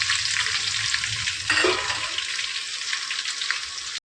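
Steady, loud sizzling of chilies frying in hot oil with curry leaves, with a sharper burst of crackling partway through as something new hits the pan. No voices.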